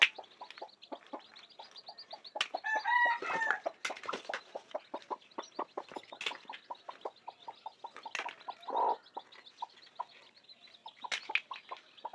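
A hen with nineteen newly hatched chicks clucks in short repeated bursts while the chicks peep steadily and brightly around her, close by and fairly loud.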